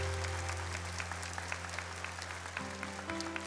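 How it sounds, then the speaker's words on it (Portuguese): During Mass, a congregation claps together, a continuous patter of many hands over a low steady hum in the room, moderately loud and unbroken throughout. "Vamos aplaudir isso, gente?"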